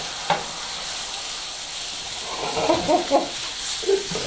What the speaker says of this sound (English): What we're trying to do is get everything seared on the outside